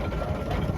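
An 8-ton barrel steam traction engine at the Strumpshaw Steam Rally gives a brief steady mechanical chugging hum up close with no voices.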